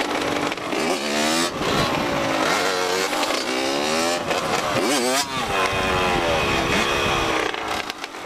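A Yamaha Banshee ATV engine revs hard, its pitch climbing and falling in repeated surges that stay close and loud, with a voice talking over it.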